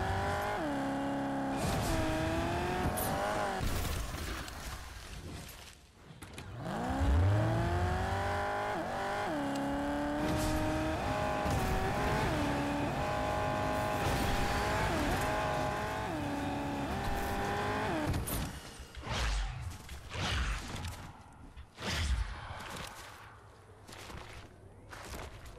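Car engine in Fortnite roaring steadily through most of the run, with shifting revs, a brief lower thump near the start, then choppy bursts and breaks toward the end as driving turns erratic; loud and close throughout.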